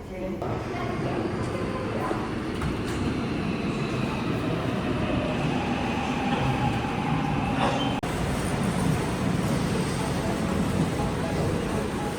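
A train rumbles steadily throughout, a broad continuous roar with faint metallic squeals riding on top, close by and fairly loud.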